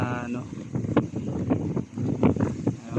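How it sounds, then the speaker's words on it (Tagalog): Strong storm wind at night with rain, lightning and thunder roars and buffets the microphone continuously, with gusty rumbling and a speaking voice breaking through in bursts. "Malakas talaga ang hangin."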